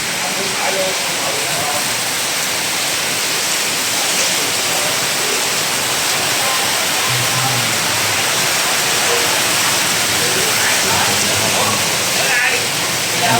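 A storm drives heavy rain down in a loud, unbroken, broadband roar, close and steady throughout, with a few faint sounds buried beneath the downpour.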